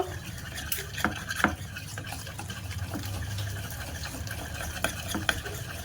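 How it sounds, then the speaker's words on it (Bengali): Soaked mung dal batter is whisked by hand in a bowl, making a steady wet churning and slapping with soft repeated clicks of the whisk, low and close, with no voices. "এবার ডালটা ভালো করে ফেটিয়ে নেব"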